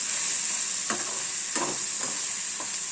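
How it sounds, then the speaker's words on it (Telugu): Okra (ladyfinger) stir-fried uncovered in a pan after a short covered steam, a steady sizzle running throughout with four or five distinct scrapes of a spatula turning the pieces, no voices. "ఇది ఇప్పుడు ఇలాగే వేయించాలి అప్పుడు మీకు జిగురే రాదు"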